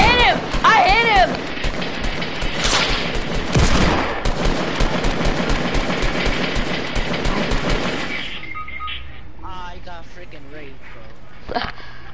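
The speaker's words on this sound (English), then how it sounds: "he's shooting the platform now" Rapid bursts of gunfire from a shooter video game crackle loudly for several seconds, then thin out, with excited players' voices talking and reacting over the shooting.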